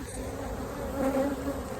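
A dense swarm of honeybees drones from an opened beehive during an inspection: a steady, close, continuous hum that swells slightly near the middle.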